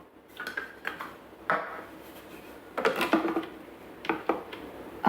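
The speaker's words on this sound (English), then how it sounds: "And now we're going to put the lid on, and we'll put the simmering basket on." Lid and simmering basket being fitted onto a Thermomix bowl: a series of close, sharp plastic and metal clatters and knocks in irregular bursts, with no talk.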